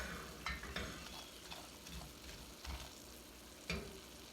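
A roux for béchamel is stirred in a pan, kept pale without colour: faint, quiet scraping strokes of a utensil come at irregular intervals over a soft, steady bubbling.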